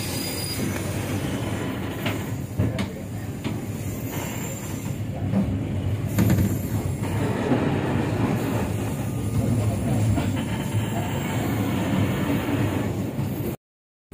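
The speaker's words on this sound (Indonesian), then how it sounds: "Lima kereta berangkat lagi ya." A Pangrango economy train runs on its rails between Sukabumi and Bogor, heard from inside as a steady rumble with wheel squeals and rhythmic clatter, continuous and fairly loud until ending abruptly.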